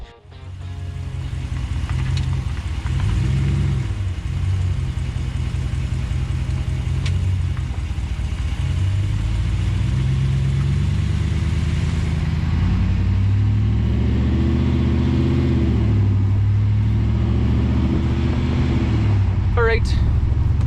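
A RAM 1500 pickup truck engine drones steadily with road rumble as it drives on dry pavement with 4WD engaged, the pitch of the motor shifting slightly as it runs.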